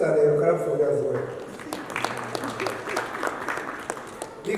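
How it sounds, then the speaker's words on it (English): An audience at a tourism and investment forum in Dubai breaks into applause, scattered claps building into a moderate, steady patter that follows a speaker's voice. "The media clap for yourselves and they clap for you as well."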